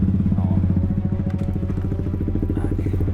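A motorcycle engine runs close by with a steady, throbbing idle rumble, loud and continuous, with no voices over it.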